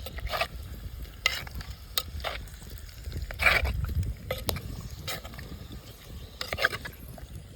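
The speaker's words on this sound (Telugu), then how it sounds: "మనకు ఆయిల్ కూడా వేడెక్కింది ఈ రొయ్యలు ఏవైతున్నాయో వాటిని మనం మొత్తం వేసుకున్నాం" Prawns fry in hot oil with a constant crackling sizzle while a spoon scrapes and clinks against the pan in repeated bursts of stirring, close and fairly loud, no voices.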